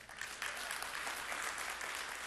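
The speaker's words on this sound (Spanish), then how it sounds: "Esos tres, denle un aplauso a Dios." A church congregation claps for God in a sustained burst of applause, dense and steady throughout, fairly close with no voices.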